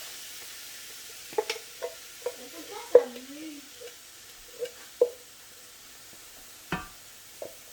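Tomato added to onions frying in a pan for butter chicken, giving a faint sizzle broken by several soft stirring scrapes and taps of a utensil against the pan, close by.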